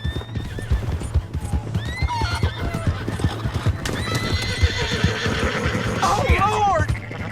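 Horse hooves clip-clop and a horse neighs in Red Dead Redemption 2, with shouting voices and game sounds mixed in, the hoofbeats steady throughout and whinnies rising near the end.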